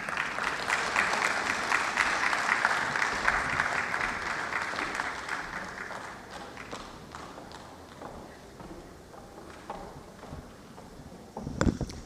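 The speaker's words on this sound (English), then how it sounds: "Please, can we applaud the Permanent Secretary once again?" Audience applause for the Permanent Secretary at a Lagos State electricity policy presentation, a sustained crowd clapping that starts loud and steady, then thins and fades toward scattered claps near the end.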